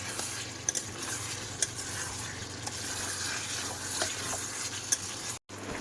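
Country chicken sautéing in hot oil in a pan, with a steady close sizzle and the scrape of a spatula stirring throughout, plus a few sharp clinks.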